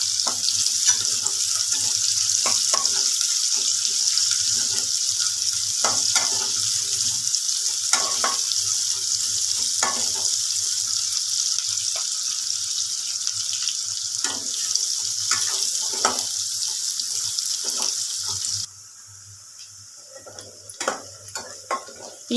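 Onions and green chilies fry in a pan for a chicken gravy, giving a steady, close crackling sizzle that runs throughout and drops to a quieter simmer near the end.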